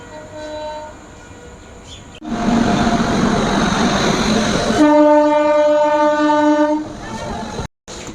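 The 03172 Down Lalgola passenger train pulls into Ranaghat station, loud and close. Its horn sounds briefly, then a heavy rolling rumble builds, followed by a long sustained horn blast over the roar of the arriving carriages.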